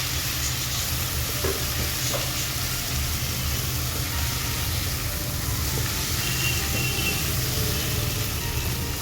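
Spices with chili powder and salt fry in a pan while being stirred, a dense, steady sizzle with scraping that holds loud and even throughout, no talking.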